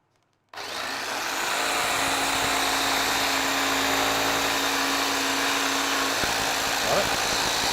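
A jigsaw cuts through a wooden tongue drum, starting abruptly and buzzing loud and steady at close range for several seconds.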